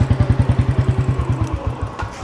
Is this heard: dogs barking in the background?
no